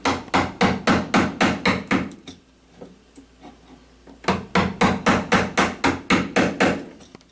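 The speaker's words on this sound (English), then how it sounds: "Using a 1-inch chisel, I just removed enough for the depth for the strike plate" A hammer strikes a 1-inch chisel into wood, cutting a recess for a door strike plate. There are two rapid runs of about eight sharp, close blows, split by a quiet pause of roughly two seconds.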